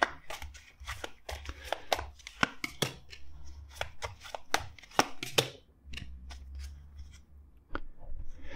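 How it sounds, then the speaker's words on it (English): Crisp, irregular bursts of riffling and tapping as a tarot deck is shuffled up close, with short pauses between flurries. "Let's shuffle again."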